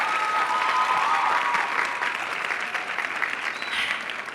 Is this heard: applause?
yes